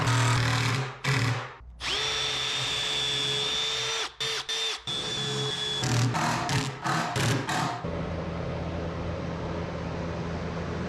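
A power drill drives pocket hole screws into a clamped cabinet face frame, with several whining bursts of varying length, one sustained run in the middle, and short stop-start pulses near the end, close and loud.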